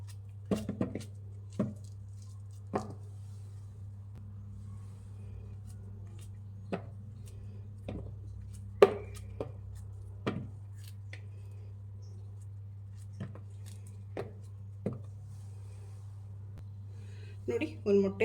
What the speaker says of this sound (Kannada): ಬಾಳೆಹಣ್ಣು ಸಣ್ಣದಾಗಿ ಕಟ್ ಮಾಡಿಬಿಟ್ಟು ಹಾಕ್ತಾಯಿದ್ದೀನಿ